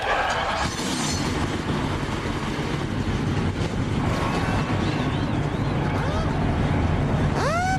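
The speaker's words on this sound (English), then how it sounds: "Engines are fired up." Race car engines roar to life together at the 2006 John Deere 200, a dense, loud mechanical rumble filling everything with rising whines at the end.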